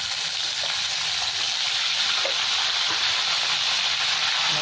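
Beans tossed into hot oil in a pan for a winter mixed-vegetable dal, giving a steady, close broadband sizzle that holds evenly throughout with no talking.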